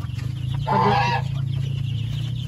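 Two-week-old chicks on a farm give one short, loud burst of calls over a steady low background hum, then fall back to quieter ambient noise.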